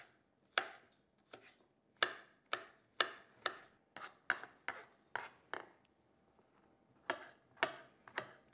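Sharp knife chops on a board as ingredients for a sauce to go with pork are minced finely, a dozen or so crisp, close strikes in uneven bursts with brief pauses, no talking.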